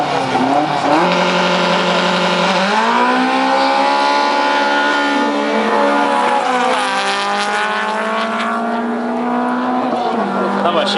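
A drag racing car at a Lithuanian drag championship round in Kazlų Rūda roars loud and close, its engine pitch rising steadily through gear shifts as it accelerates hard down the strip, with an announcer talking over it.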